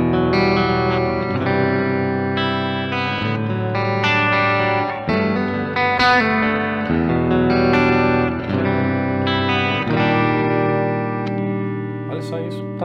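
Electric guitar played through a Caline Ragnarok reverb and delay pedal, sustained chords and melodic notes ringing with lush hall-style reverb tails, continuous and loud with no talking.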